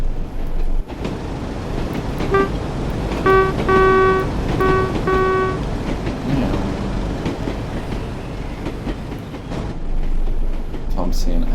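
A Class 101 train in Train Sim World 5 runs on the Tees Valley Line between Bishop Auckland and Saltburn. Steady rumbling travel noise carries a few short horn blasts near the middle, with someone talking over it.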